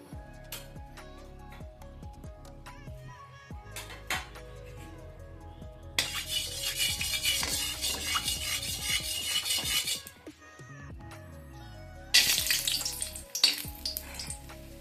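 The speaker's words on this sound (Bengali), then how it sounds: "বড়ি কটা আমি লাল করে ভেজে নিলাম" Lentil dumplings fry in mustard oil in a wok, with a quiet background then two bursts of loud hissing sizzle, interspersed with clinks and scraping of a utensil against the pan.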